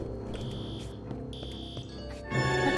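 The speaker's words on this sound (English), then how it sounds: "Is that the fire alarm?" In a video game, a fire alarm goes off when a grill catches fire, giving two bursts of shrill electronic beeping before other game tones and a louder hum take over.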